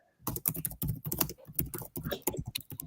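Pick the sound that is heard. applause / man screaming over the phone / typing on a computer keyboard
typing on a computer keyboard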